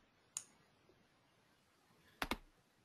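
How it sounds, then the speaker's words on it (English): Keys tapped on a computer keyboard to type a web address during an online webinar: one isolated click, a faint tap, then a quick close pair of keystrokes against a quiet background. "And I'll just type in the place where you can subscribe to the lists."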